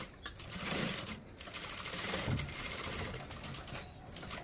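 A sewing machine stitches a heavy paithani silk saree blouse with patch work at the neckline, running in a steady close mechanical whir with light ticking, fairly loud and alone with no talk.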